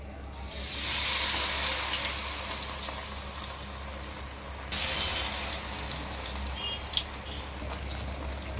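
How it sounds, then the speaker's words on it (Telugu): Battered gobi manchurian cauliflower pieces fry in hot oil, giving a loud, steady sizzling hiss that swells as they go in and surges again briefly midway. "కలిపిన దాన్ని ఇంకా ఆయిల్లో వేసేసేయాలి"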